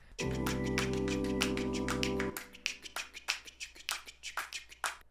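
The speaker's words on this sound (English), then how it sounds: "And now to make that really special, I added in some clapping." Sharp hand claps layered into an a cappella track: a held vocal chord rings for about two seconds, then the claps carry on alone in a loose, uneven pattern, close and crisp.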